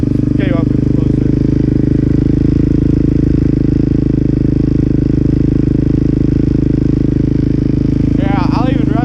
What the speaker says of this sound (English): here's a good sound of my FMF